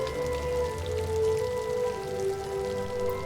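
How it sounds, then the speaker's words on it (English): Rain falls as a read-aloud sound effect, a soft, steady patter of drops on a surface over a low, constant background hum, gently rising and falling. "The sky grew dark, and fat raindrops began to fall."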